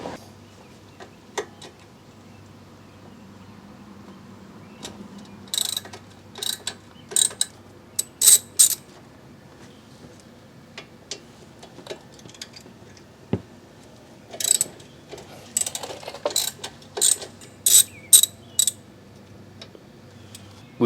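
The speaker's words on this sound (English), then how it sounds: "With a 17mm wrench on one side and a 19mm wrench on the other, we can loosen those bolts." A 17mm and 19mm wrench working the lower strut mounting bolts on a 2008 Hyundai Elantra give off scattered metallic clicks and ratcheting ticks, in irregular clusters, close and fairly quiet.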